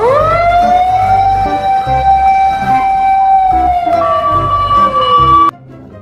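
A loud fire truck siren wails steadily, its pitch rising then holding and sliding, before cutting off abruptly near the end.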